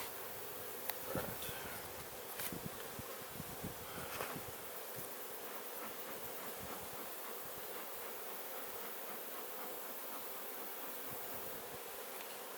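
Honey bees swarm around an opened beehive during honey removal, a steady dense buzzing that fills the air continuously, with a few louder passes of individual bees close by early on.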